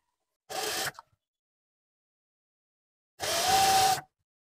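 Two short bursts from a sewing machine stitching the edge of a sleeveless blouse, each under a second long, close and mechanical, separated by a pause of silence.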